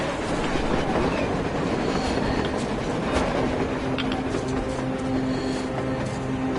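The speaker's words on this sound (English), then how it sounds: "It looks like they're taking that train too!" A train rumbles past in a PS4 video game, a loud, continuous roll of wheels and carriages with a rhythmic clatter and faint metallic squeal, with no voices over it.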